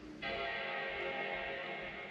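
A single sustained Mac Pro startup chime rings out with a rich, bell-like chord and holds steadily at moderate volume before the clip ends.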